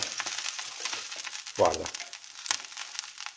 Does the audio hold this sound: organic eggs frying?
yes